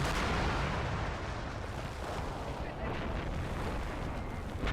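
88 mm anti-tank gun firing in the Graviteam war video game, a heavy booming blast followed by a long rumbling roar that dominates and slowly settles into low, continuous battlefield noise.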